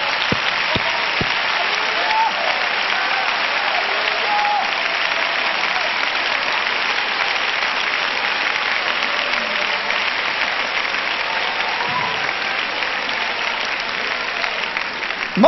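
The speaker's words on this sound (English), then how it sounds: "put a tail on it as you are seated and clap again" A seated audience at a large 1990 gospel meeting claps again in a long, sustained wave of applause, dense and even from start to finish with no break.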